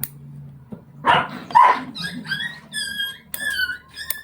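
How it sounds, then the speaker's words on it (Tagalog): A dog barks at a puppy, a couple of sharp, close barks followed by higher yips and squeaky whimpers, loud and irregular. "Pinatulan na naman ng aso ko yung tuta."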